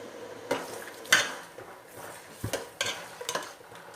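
Sarneda batter of jaggery, coconut milk and water is stirred in a metal vessel, giving scattered scraping clinks and knocks of a spoon against the side, close and irregular, with no talking.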